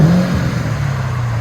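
A Ford Mustang GT's 4.6L V8 on straight pipe exhaust, one loud, close rumbling rev that falls back to a steady low drone.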